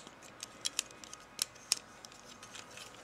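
Plastic toy stinger weapons on a Transformers Animated Bumblebee figure fold out with a few small, sharp clicks, several close together then a couple more, quiet and near with no talking.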